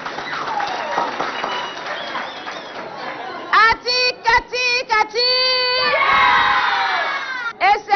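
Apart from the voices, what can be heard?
school audience applauding and cheering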